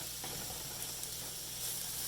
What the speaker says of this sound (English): put my mushrooms in just to fry them off a little bit